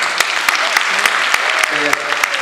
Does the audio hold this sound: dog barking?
no